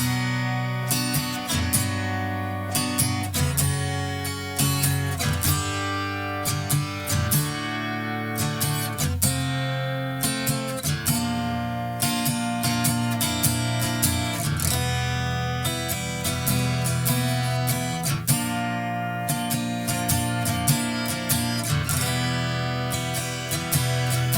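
A continuous stretch of guitar music, the bridge of a song, with strummed chords and melodic notes, full and loud throughout, with no talking.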